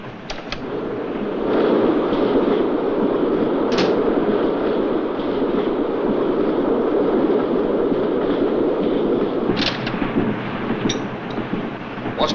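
A passenger train rolls along the rails in a steady, loud rumble that continues without a break, with a few sharp metallic clicks and clatters over it and no voices.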